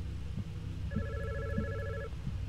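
An old telephone rings in the horror video game God's Basement, one sustained electronic trill with a double-toned ring lasting about a second, over low rumbling game ambience and faint thuds.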